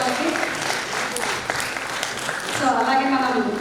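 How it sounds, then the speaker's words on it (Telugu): At a dance festival, a group of children claps steadily as a voice speaks over the applause, which swells slightly toward the end. "పిల్లలందరూ ఒకసారి గట్టిగా క్లాప్స్ కొట్టండి వాళ్ళకి."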